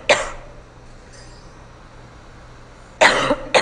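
A woman coughs in a short loud burst at the start, then again in a couple of sharp coughs near the end, with quiet room tone in between.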